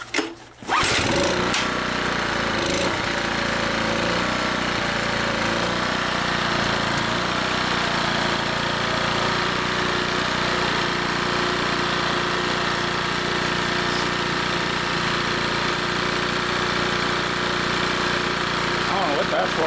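A dirty, dumpster-found Mercury 70 hp two-stroke outboard runs close by once warm without the choke, a loud continuous buzzing drone after a brief rough start, holding steady throughout.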